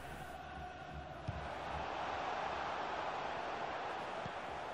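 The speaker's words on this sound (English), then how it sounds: "Why are the crowd singing a Spurs song?" A stadium crowd sings a chant in the FIFA 22 football game, a broad, steady wash of massed voices heard throughout at a constant level.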